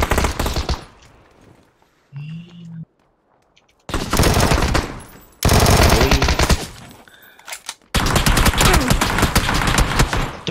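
PUBG gunfire comes in loud, dense bursts of rapid automatic shots, split by brief quieter gaps that carry a short electronic tone, with heavy sustained volleys filling most of the stretch.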